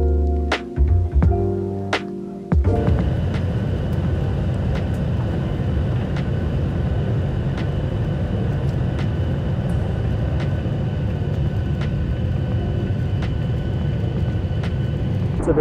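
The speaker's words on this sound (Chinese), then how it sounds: "那我们就准备起飞吧" An airliner takes off on a domestic flight, its engines building into a loud, steady roar heard from inside the cabin, with a few clicks and thuds at the start.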